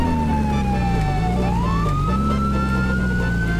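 A police car siren in a video game wails continuously and loudly, its pitch sliding down and then back up in a steady electronic tone over a low engine hum.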